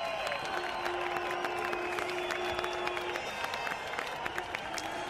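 A large crowd cheers and claps steadily at a motorcycle racing podium celebration, a dense wash of applause and voices with a brief sustained tone running through it.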